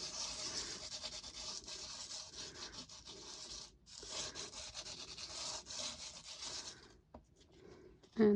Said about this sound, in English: I'm going to use a little bit of sandpaper now with this and just sand off the top so that the raised edges pop up